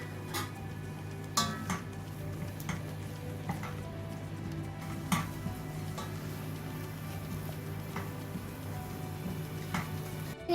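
A spoon scrapes and clinks against a pan while eggs are stirred into a microgreens and coconut dish, under a steady low sizzle and hum, with a few sharper knocks spread through the mix and no talk.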